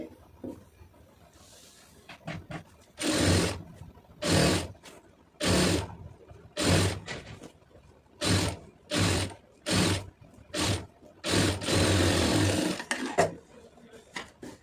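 Sewing machine stitching piping onto a puff-sleeve blouse, running in about ten short bursts of rapid mechanical whirring separated by brief pauses, close and loud.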